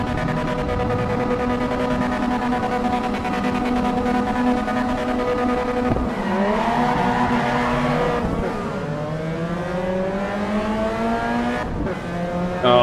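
Race cars roar off the start line in the sim racing game Assetto Corsa Evo: a loud, continuous engine drone that climbs in pitch, drops at gear shifts and climbs again, close and dense throughout.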